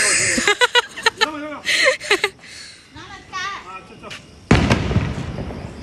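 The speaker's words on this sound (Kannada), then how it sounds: "ಸೊ ನಮ್ಮನೇಲಿ ನನ್ನ ಮಗಳು ಪಟಾಕಿ ಹಚ್ಚಕ್ಕೆ" Firecrackers set off at home during Diwali, with sharp bursts and crackling, a loud blast near the end, among children's voices and chatter.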